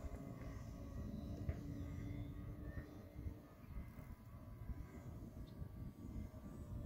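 An E-flite UMX Timber RC airplane flies an inverted low pass, low and slow, its steady electric motor whine running continuously at moderate distance against outdoor background noise.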